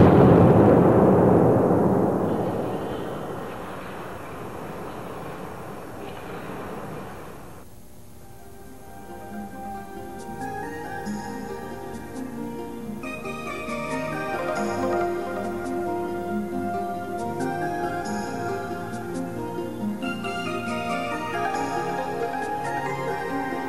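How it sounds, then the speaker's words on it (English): A loud explosion bursts inside a flameproof enclosure with a deliberately damaged flanged joint, a heavy booming blast for several seconds that fades into a long, rumbling, ringing decay with scattered crackles, no voices. "we will deliberately damage the flanged joint to demonstrate what can happen if there is an explosion with a damaged flame path."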